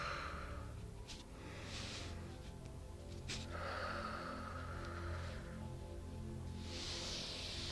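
Breath exhaled during a morning hatha yoga routine, with several soft, close breathy exhales and sighs over a steady low background hum.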